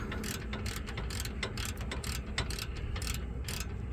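Rapid clicking of a ratchet with an 18 mm socket and 1/2-inch drive working on the rear brake caliper of a 2000–2006 Chevrolet Suburban 2500, close and steady, alone without talk.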